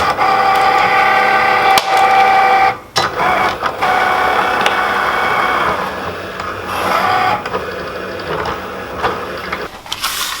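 A Cricut cutting machine slices a sticker design on its mat, giving a steady close mechanical whir with printer-like shuttling and brief pauses and shifts as the carriage moves, running alone throughout.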